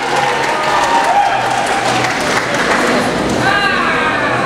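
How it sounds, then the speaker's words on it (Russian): A convention crowd at Epic Con Russia 2019 applauds as performers come on stage, with dense, steady clapping that holds at full loudness throughout and a faint tonal sound underneath. "Встречаем, ребята, аплодисменты."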